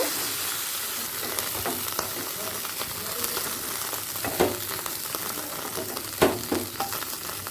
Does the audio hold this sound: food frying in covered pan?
yes